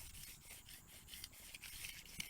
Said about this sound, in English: So we'll give her a good scrape here, get all the big stuff off of it